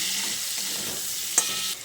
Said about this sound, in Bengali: এবার এই টমেটোটা দিয়ে পটলের সঙ্গে আবারও ভালো করে মিশিয়ে নিচ্ছি।